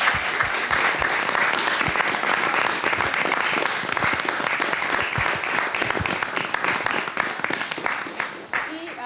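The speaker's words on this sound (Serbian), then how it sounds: "Veliki aplauz još jednom, Katarina Radnjević." A studio audience at a talk show breaks into dense, sustained applause that fills the room for several seconds, fading slightly at the end.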